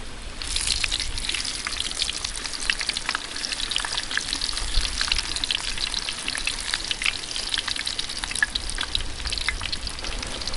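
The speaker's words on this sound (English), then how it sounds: "Got the sausages on the go now" Sausages fry in a pan over a camp fire, giving a steady close crackle and sizzle with scattered spitting pops that run on without pause and with no voices.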